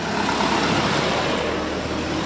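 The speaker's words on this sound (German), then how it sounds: "sobald hier so ein Auto drüber fährt, ist die am Wackeln" A car rolls across a wobbling bridge on Flores, Indonesia, giving a steady, loud roar of tyres and engine with broad road noise that holds evenly throughout.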